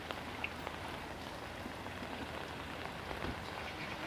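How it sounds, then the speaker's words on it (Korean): Steady rain falls outdoors at Namhansanseong, a soft continuous hiss with scattered drip patter, fairly faint and even throughout, with no voices. "비가 오는데"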